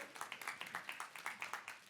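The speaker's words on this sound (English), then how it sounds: "give them a round of applause if they're tuning in" Applause at a health-tech showcase event, heard as a few people clapping in a clear, regular rhythm of distinct claps, fairly quiet and close, with no cheering evident.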